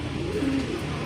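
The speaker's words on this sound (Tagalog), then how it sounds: "Ayan yung ibon na yan." A racing pigeon coos once in a soft, low, brief burr at close range in a loft before a pooling race in Gapan, Nueva Ecija, over a quiet room background.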